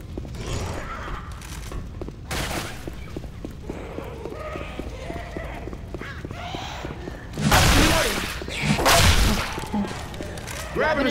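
Bursts of gunfire in the zombie shooter Left 4 Dead 2, set in a downtown diner, with sharp cracks scattered among clattering footsteps and two heavy, loud volleys near the end.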